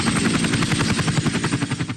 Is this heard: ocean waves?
no